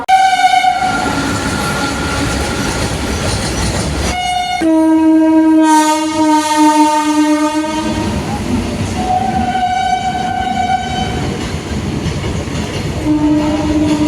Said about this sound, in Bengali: তো এখন ট্রেন আসছে, তো ওইদিকে সিগন্যালও হয়ে গেছে, ট্রেন এবার পাস করবে